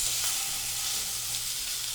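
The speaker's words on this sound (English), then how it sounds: "and you get that nice sizzle" A pork chop sizzles steadily in a hot frying pan, an even, close crackling hiss that holds without a break and with no talk over it.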